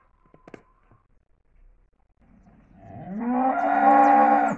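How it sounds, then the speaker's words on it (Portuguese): A cow being milked on a farm in the morning lets out one long, rising moo that swells loud and close, after a few faint knocks and shuffles. "já começou a tirar de outra vaca"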